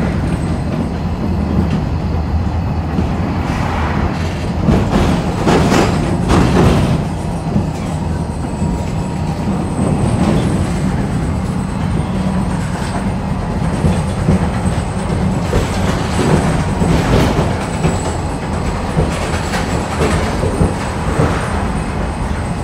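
A rural single-track tram in Romania, its older cars heading toward the terminus, rumbles loudly with steady clattering wheels, rhythmic rail clicks and car rattle throughout, close and continuous with no speech.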